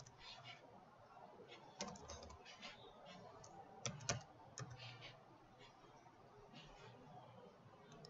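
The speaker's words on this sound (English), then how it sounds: "I'm going to type in work group." Typing on a computer keyboard while setting up Windows 10, with scattered quiet key clicks, a few slightly louder taps, and a low background hum throughout.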